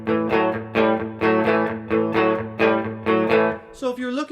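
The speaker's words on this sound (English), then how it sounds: "you could pull that treble boost, and that's going to give you a little boost as well as a little bit of dirt" An electric guitar plays through a PRS MT15 Tremonti tube amp with its treble boost pulled, giving light dirt: a repeated chord stabbed rhythmically about seven times, loud and close, ending with a brief bent note.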